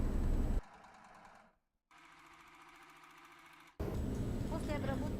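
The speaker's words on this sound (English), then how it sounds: "Almost all of the household overlocks now process the items with the rolled hem" A household overlock sewing machine stitches a rolled hem on a bias-cut dress bottom with a steady, fast mechanical whir. It runs in bursts with an abrupt stop and a brief pause, and loud noise returns at the end.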